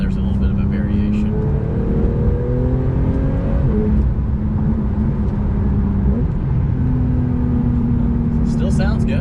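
A Porsche 991.2 Carrera engine hums steadily while driving, its tone climbing and settling through shifts under road and wind noise.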